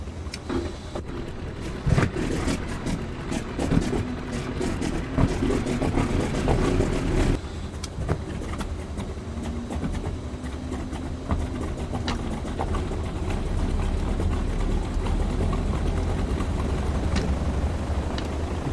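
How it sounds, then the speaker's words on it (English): The left radial engine of a Junkers Ju 52 starts in Flight Simulator 2020 and settles into a loud, throbbing, continuous drone alongside another running engine, with uneven surges at first before it steadies. "Let's kick off the right engine, or the left engine"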